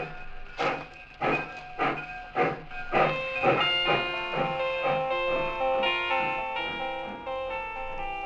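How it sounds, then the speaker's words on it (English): A steam train pulling away from a station, with rhythmic chuffing bursts that start slow and spaced, then quicken and merge into a continuous hiss with tonal ringing. "I stood there on the embankment as the train pulled away."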